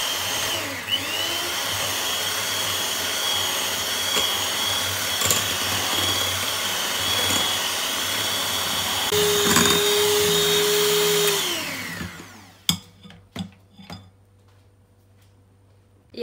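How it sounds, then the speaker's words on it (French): An electric hand mixer whirs steadily and loudly for about twelve seconds, beating orange cake batter in a bowl, with a brief change in pitch near the end before it stops and a few clicks and knocks follow. "après je mélange aussi bien"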